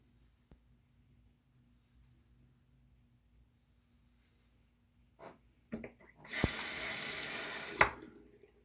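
A Winning safety razor with small rinse ports is rinsed under a running tap: a few faint clicks and handling knocks come first, then about two seconds of loud, steady gushing water that ends abruptly.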